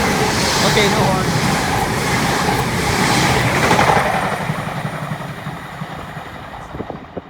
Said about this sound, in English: It's Transpennine Express's new Nova 2s. It's called a Civity, and they're brand new trains for Britain.